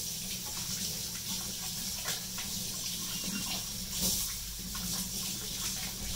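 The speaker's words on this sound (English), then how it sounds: "I'm going to wash my hands real quick." A running tap splashes steadily into a kitchen sink while hands are washed, a soft continuous hiss of water at low level.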